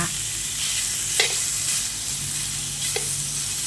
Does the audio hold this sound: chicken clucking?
no